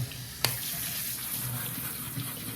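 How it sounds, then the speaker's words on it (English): Warm water runs steadily from a tap at a home dog-grooming wash, an even rushing flow that starts with a brief knock and continues without pause. "now we got that perfectly good warm water."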